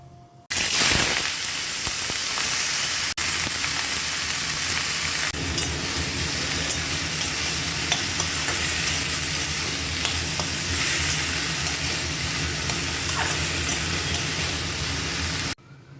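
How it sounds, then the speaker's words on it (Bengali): Chopped banana stem tipped into hot oil bursts into a loud, dense sizzle that continues steadily for many seconds with stirring scrapes, close up, then stops abruptly. "এবারে কেটে রাখা থোরটা ঢেলে দেবো"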